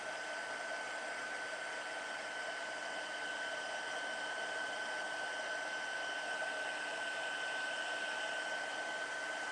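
A heat tool blowing hot air over a card for heat embossing, a steady close whirring blow with a faint high whine, continuous and unchanging throughout with no talk.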